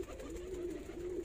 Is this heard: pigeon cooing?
yes